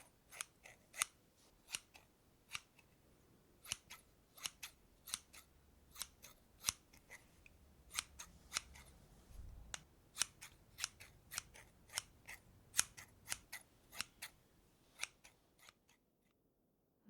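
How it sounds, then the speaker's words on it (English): Scissors snip repeatedly in short, crisp cuts, a steady series of close, distinct clicks with brief pauses, heard alone in a quiet room. "scissors, cutting, snipping"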